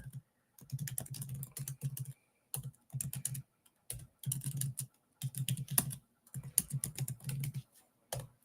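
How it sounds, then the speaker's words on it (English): Typing on a computer keyboard, close and quiet, in several quick bursts of key clicks separated by short pauses. "I'm going to type it in the chat."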